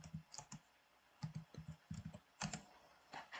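A search word is typed on a computer keyboard as a quiet, close run of irregular key clicks in small clusters with short pauses.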